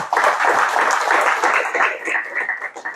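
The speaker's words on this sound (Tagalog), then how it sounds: "Palakpak." Loud applause from a church congregation during a sermon, dense clapping that swells and then thins out toward the end.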